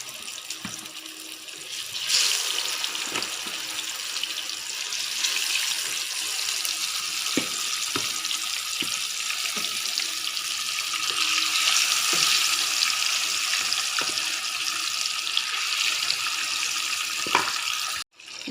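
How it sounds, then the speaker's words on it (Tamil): Fish frying in hot oil with red chilli powder, a steady, loud hissing sizzle that runs almost unbroken for the whole stretch, with scattered soft clicks and pops before it cuts off at the end. "எண்ணெய் சூடாகிடுச்சு. இப்போ நம்ம மீனை போட்டு பொரிச்சிக்கலாம்."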